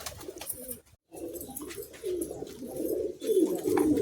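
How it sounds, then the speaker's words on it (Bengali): Pigeons coo steadily at close range, their low throaty calls overlapping as the flock crowds eagerly toward a handful of grit feed, with a brief near-silent gap early on. "আমার পায়রা দেখুন আমার হাতের গ্রিডটা দেখে ওরা কীরকম খাওয়ার জন্য লাফাঝাফা করছে"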